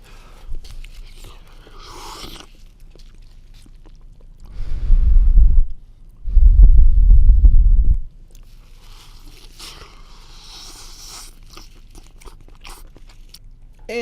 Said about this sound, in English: I'm having a top ramen noodle break because it's super late